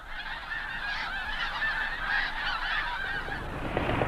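A flock of snow geese on the tundra delta west of Hudson Bay honks continuously, many overlapping nasal calls forming a busy, steady chorus at moderate distance.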